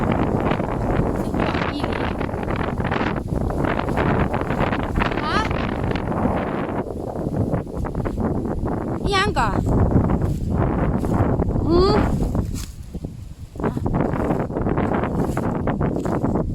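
Strong outdoor wind buffets the microphone during mushroom foraging after work, a loud, continuous rumbling gust noise that dips briefly before surging back, with people talking underneath.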